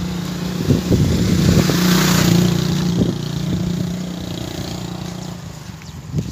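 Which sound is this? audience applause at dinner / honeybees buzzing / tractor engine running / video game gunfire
tractor engine running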